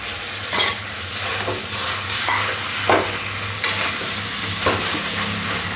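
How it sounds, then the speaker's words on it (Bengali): Boiled, mashed potatoes are stir-fried with spice masala in a pan, making repeated scraping strokes over a continuous close sizzle, with no talking. "এবার মশলার সাথে খুব ভালো করে একটু কষে নিতে হবে।"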